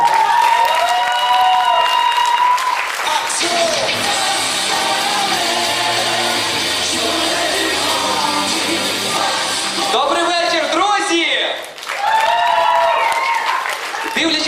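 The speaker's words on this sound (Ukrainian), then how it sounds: "Французький поцілунок чекає на ваші оплески" A crowd at a Halloween-themed freestyle comedy show applauds steadily and loudly, mixed with shouts, cheering voices and tonal sounds throughout, briefly dipping before swelling again.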